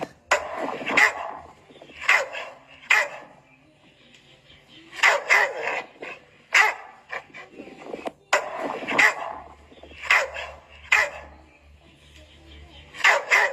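A dog barks repeatedly in sharp, loud bursts, some close together and some spaced out, with yips mixed in.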